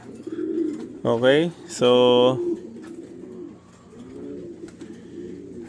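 Pigeons coo nearby, soft low burbling calls mixed with one loud swooping hoot and a brief harsh flap, while someone speaks briefly over them.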